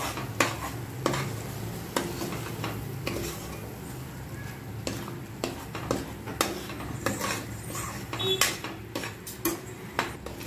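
A spoon stirs and sautés a whole-spice paste in a pan for dhaba-style kaju paneer masala. Rhythmic metallic scrapes and clinks repeat over a low, quiet sizzle.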